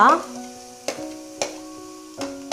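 Onions, green chilli and garlic-ginger paste sautéing in hot oil for chicken cutlets, with three or four metal spoon knocks against the pan, each ringing briefly over a faint sizzle.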